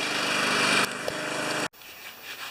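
A Briggs and Stratton lawn mower engine runs for under two seconds, a steady buzzing drone that cuts out abruptly, leaving faint background noise.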